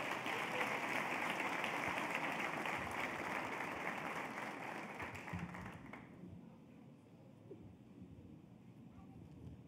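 A church congregation applauds during a worship service, a dense, steady wash of clapping that holds for about six seconds and then fades to a quieter room tone.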